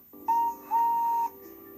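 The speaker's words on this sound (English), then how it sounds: "Henry, did you hear that whistle?" A high, steady steam locomotive whistle sounds twice: a short blast, then a longer one, clear and fairly loud against a quiet background.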